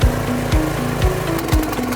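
A 4.0kW gas micro tiller engine with a gear drive is pull-started. Sharp repeated cranking strokes come about every half second over a rough, loud engine-like drone.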